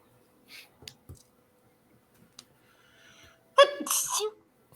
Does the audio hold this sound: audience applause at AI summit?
no